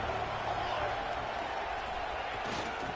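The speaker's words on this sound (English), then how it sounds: "this home crowd is fired up and ready to make a difference today" Home crowd at a USC vs Oregon college football game in a video game, a steady, loud roar of cheering that fills the stadium with little variation.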